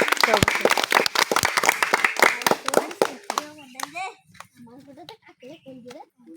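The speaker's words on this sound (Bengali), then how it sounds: "তালি দাও, তালি দাও, জোরে তালি দাও" Children clapping hard in sharp, fast bursts that fade out after about three seconds, followed by a child and an adult talking.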